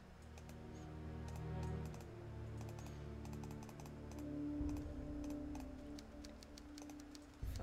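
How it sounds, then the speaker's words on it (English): Rapid clicking of keys on a computer keyboard, close and fairly quiet, in uneven bursts of keystrokes over a low indoor hum, with no one speaking. "Follow the sound of typing"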